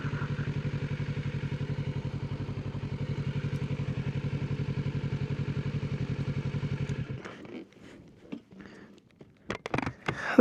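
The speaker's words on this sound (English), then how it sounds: "So, that is my bike. So that's a Ninja 650." A Kawasaki Ninja 650 motorcycle engine rumbles steadily at a low, even idle for about seven seconds, then cuts out, leaving brief clicks and rustling thumps as the bike is brought to a stop and settled.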